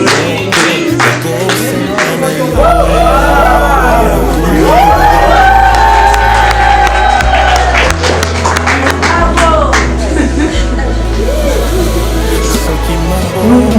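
Wedding guests at a celebration cheer, shout and clap as a crowd, a lively continuous roar with scattered claps over thumping bass-heavy music, loud and close, with voices mixed in.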